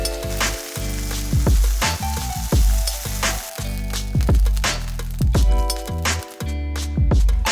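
Cod fish frying in hot oil gives a loud, steady close sizzle, with rhythmic crackling bursts and occasional light clinks running throughout.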